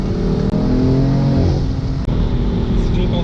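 A BMW M4 F82 accelerates hard, its engine roaring loud and close with a dense, continuous rising tone, while a voice talks over it throughout.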